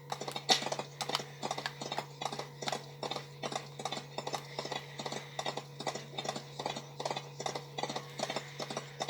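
Horse hooves pounding in a steady, rapid galloping rhythm during a horse race in the video game GTA, loud and continuous over a constant low hum.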